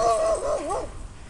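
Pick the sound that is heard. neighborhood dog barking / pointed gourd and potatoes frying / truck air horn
neighborhood dog barking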